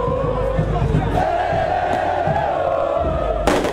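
Cruzeiro supporters chant loudly and continuously in the street, a dense crowd roar with rhythmic voices, capped by a sharp burst near the end.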